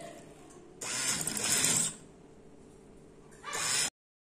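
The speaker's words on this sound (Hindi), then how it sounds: "तो ये किनारे के ऊपर सिलाई लगा लें।" A sewing machine stitches along a fabric border of a V-neck in two short mechanical bursts. Each burst is a fast rattling whir, and a quiet pause falls between them.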